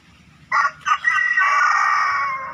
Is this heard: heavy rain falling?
no